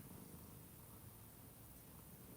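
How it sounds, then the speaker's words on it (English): A cat purrs in a soft, continuous low rumble, close and quiet, with no other sounds around it. "I don't know if y'all can hear him purring"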